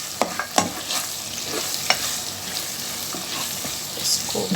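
Chopped garlic and ginger sizzle in a hot pan while being stirred, with a few sharp scraping strokes standing out over a steady crackle and no voices.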